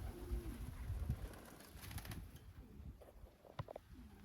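Young pigeons in a loft give soft, low coos near the start and again at the end, faint and somewhat distant beneath a quiet hiss and a few light clicks and shuffles.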